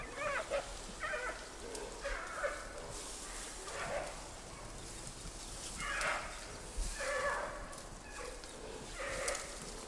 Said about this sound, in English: From the growls, it's obvious the males will have no energy left for fighting, as Lulu does with the females in Wulong.